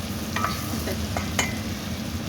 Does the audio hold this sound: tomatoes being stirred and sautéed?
yes